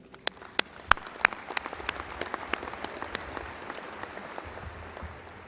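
Applause from a large university graduation audience, a steady wash of clapping with a few sharp, close claps standing out near the start.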